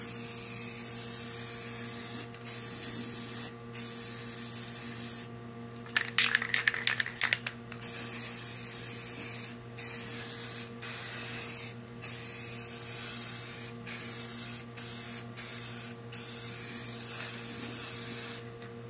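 Tremclad aluminum spray paint and clear coat sprayed from an aerosol can onto a car wheel rim: a steady hiss in repeated bursts separated by short pauses, with a brief clattering rattle midway and no talking.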